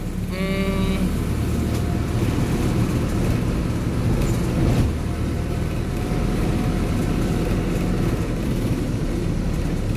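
A Hino medium bus, Indian-built with an Indonesian body, idles with a steady, loud diesel rumble that holds throughout, with a brief tonal whine at the very start.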